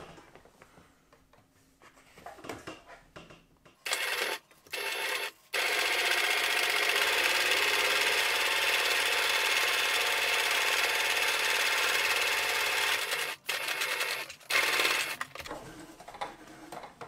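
A sewing machine stitching canvas runs in a steady, continuous burst for about eight seconds after a few short starts, loud and close, then stops with brief bursts after.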